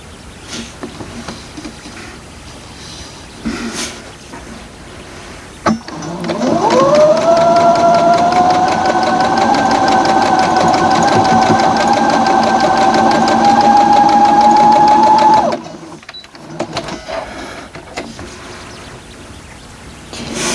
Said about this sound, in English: I'm going to sew this one as well from the back because I have these seams in the center.